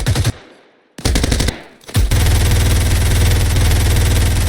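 Loud automatic gunfire bursts in a competitive shooter video game match, a short burst, a second burst after a brief gap, then a sustained rapid stream of shots, close and dominant, with no speech.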